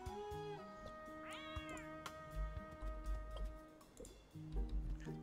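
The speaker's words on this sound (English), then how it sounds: "Beans, he's a cat, I guess." A cat character meows once in Chicory: A Colorful Tale, a short rising and falling cry set against steady, soft game music with light ticking.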